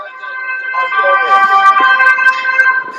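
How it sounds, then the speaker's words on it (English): A passing ambulance siren wails loud and close with a rising and falling electronic tone, heard outdoors in Amsterdam and running the whole length of the clip. "Oh, that was the ambulance. I mean, the sirens."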